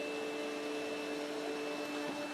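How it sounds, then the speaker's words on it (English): Yeedi K650 robot vacuum running in max plus suction mode, a steady loud whirring drone with a constant motor whine and no pauses. "you will have to turn the robot into max plus mode, which is just getting in the obnoxiously loud category"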